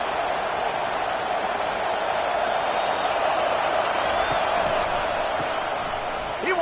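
Stadium crowd in a college football video game against TCU: a constant, dense roar of many voices that holds at an even level without pause.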